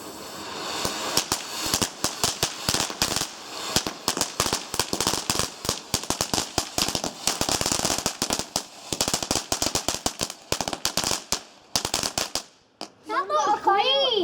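Fireworks set off on Bonfire Night, a long rapid run of sharp crackling firecracker bangs close by that ends abruptly, followed by children and adults chattering.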